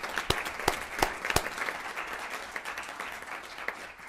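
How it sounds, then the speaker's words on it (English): A council meeting audience applauds a longtime volunteer, with light, fairly distant clapping and a few sharp louder claps standing out near the start, tapering off softly. "So let's give Shirley a round of applause."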